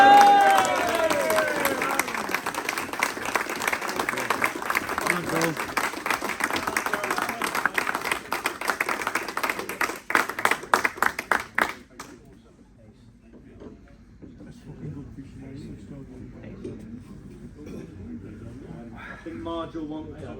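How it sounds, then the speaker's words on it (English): Dense, loud applause from a large audience at the Milo Wye festival fills the first half, then cuts off abruptly, leaving quieter murmuring and talk. "Big round of applause for Dave."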